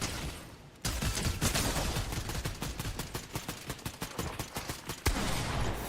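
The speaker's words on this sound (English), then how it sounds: "I just heard a gunshot." Dense video game gunfire in a long rapid burst of repeated loud shots, close and continuous, with a brief quieter lull at the start and a fresh volley near the end.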